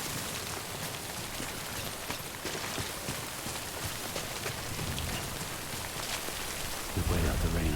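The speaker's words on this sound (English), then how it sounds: "We wait out the rain over there." Rain in the video game Death Stranding, a dense, steady downpour patter with a deeper rumble swelling near the end, no speech.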